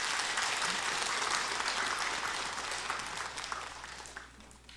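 A Buddhist temple congregation at a Sunday dharma talk at Jogyesa applauds, a dense wash of clapping that starts strong and gradually thins and fades.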